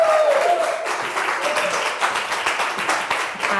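Steady applause from an audience welcoming Angela Meade, a dense wash of clapping that holds at an even level throughout.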